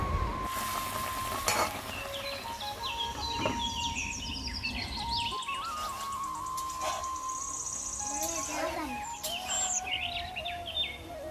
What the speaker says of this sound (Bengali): পানিটা একটু ফুটতে শুরু করেছে, এখন আগে থেকে বেজে রাখা মাছগুলো দিয়ে দিচ্ছি।